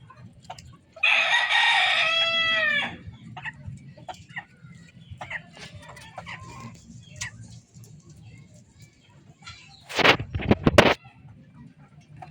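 Gamefowl roosters of Boston and Tornado bloodlines crowing: one loud, close, drawn-out cock-a-doodle-doo, then faint clucks and rustling, and a brief burst of noise near the end.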